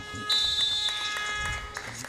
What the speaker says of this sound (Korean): 이렇게 종료 부저가 울리면서 양 팀의 경기가 종료가 됐습니다